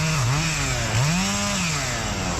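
Chainsaw cutting through the hinge of a hung-up tree during felling, a loud, close, continuous engine whine that dips and rises in pitch as the chain bogs into the wood.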